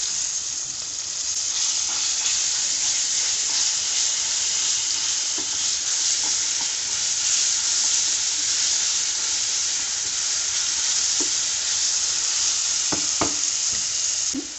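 Raw mango dropped into green chillies frying in oil over a low flame, producing a steady close sizzle and hiss with occasional faint clinks and stirring taps, no talking.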